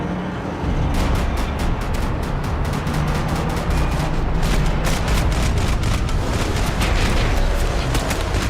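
Heavy gunfire rattles out in loud, rapid, sustained bursts during a shootout, with dense repeated shots close by and booming undertones nearly filling the whole stretch.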